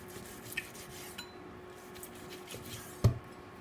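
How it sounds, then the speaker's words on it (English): A sharp Robert Welch knife slices through a cooked rib eye steak, giving faint, quiet cutting sounds and one crisp knock of the blade against the board near the end. "Now let's cut some beautiful slices with a lovely sharp Robert Welch knife."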